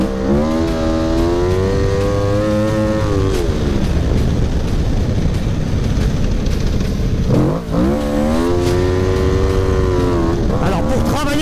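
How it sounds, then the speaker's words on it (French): A dirt-track motorcycle slides into turns and exits at full throttle, its engine loud and close, revving up and down in repeated rising and falling sweeps, with one brief dip partway through before it winds up again. "On alterne donc entre entrée en glisse comme en supermoto et des sorties plein gaz comme en flat track."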